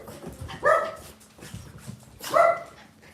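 Dogs at home letting out two loud, close barks about a second and a half apart, with softer whimpers between them and no talking.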